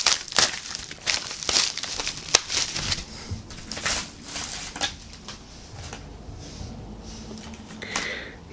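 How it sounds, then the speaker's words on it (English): A packet is torn open by hand, giving a run of close crinkling, crumpling and tearing bursts of plastic or paper packaging with brief pauses between them, no talking. "I'm going to have to rip it off camera"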